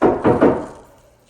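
Three quick, firm knocks land on a door close by, each a dull wooden thud that fades into a short decay.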